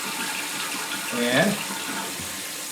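A toilet tank, just repaired after a leak, refills with water in a brief rushing, gurgling stream with a short swell in the middle and a faint voice nearby.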